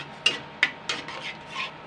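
Semolina and water being stirred in a bowl, a handful of sharp scraping taps from the spoon followed by softer rubbing strokes, close and clear with no talk.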